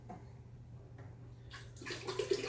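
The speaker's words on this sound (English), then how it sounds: "Now, I am going to fill the rest of this up with water." Water running into a container for a first batch of mead, a soft steady rush that swells louder and brighter toward the end.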